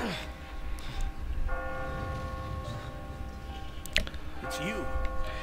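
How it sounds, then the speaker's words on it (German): A bell chimes in the Catherine video game with long ringing tones that fade and come back, mixed with small clicks and a faint voice underneath. "Die Glocke kommt aus dem Spiel, nicht aus unserer Stadt."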